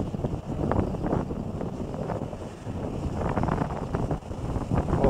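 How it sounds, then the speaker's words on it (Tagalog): Strong wind buffets the microphone at a motorcycle campsite, a steady roaring rumble with gusty surges throughout and no voices. "Mas ng hangin."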